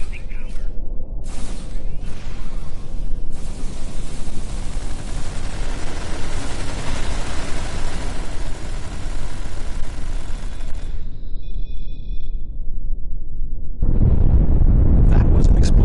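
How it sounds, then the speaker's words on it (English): Explosion from a hull breach in the Star Trek Online space game, a loud sustained rumbling blast with crackling debris and metallic mechanical tones, cutting off abruptly before a deep boom returns near the end. "That was an explosion of sufficient magnitude to cause a breach."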